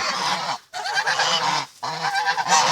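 Geese on a farm honk loudly and close by in two long, continuous bursts of overlapping calls, each broken by a short pause.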